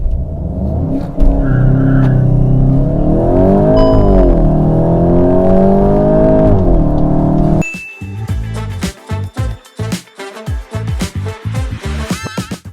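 A Volkswagen Golf GTI driven hard on a race track at very high speed; a loud, sustained engine drone with shifting pitch, then choppier bursts of revving and gear changes toward the end.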